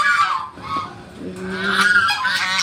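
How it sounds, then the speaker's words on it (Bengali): Domestic geese honk repeatedly and loudly close by at a busy fairground, overlapping nasal calls in quick succession with no talk. "এই দেখো কতগুলো রাজহাঁস, এই হচ্ছে রাজহাঁস"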